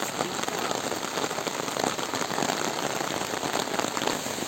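Steady rain pours down beside a river swollen with floodwater, a dense, even hiss of drops hitting water and ground that continues unbroken throughout.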